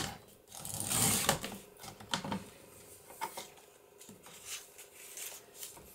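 Paper being cut for a trifold journal embellishment, a few quick crisp slicing and rustling strokes with light handling noises in between, close and fairly quiet.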